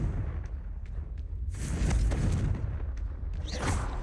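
A Confringo fire spell bursting in Hogwarts Legacy, a fiery explosive whoosh with low booming rumble under quieter game ambience, the blast peaking mid-clip with a second flare near the end.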